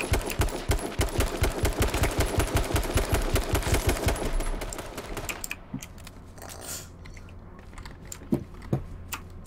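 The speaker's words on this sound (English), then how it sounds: "Shots at us." Rapid automatic gunfire from the H1Z1 battle royale game crackles loud and close in a fast steady burst for about five seconds, then gives way to quieter scattered shots and faint game ambience.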